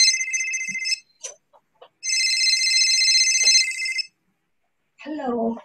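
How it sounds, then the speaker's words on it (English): A telephone rings in two bursts of electronic trilling, loud and clear with a pause between them, followed by a person speaking briefly. "Oh, who's calling me on the phone?"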